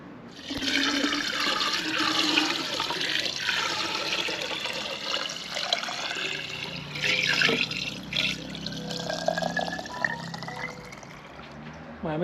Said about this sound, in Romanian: Eu voi lua apă acum și voi umple borcanele mele.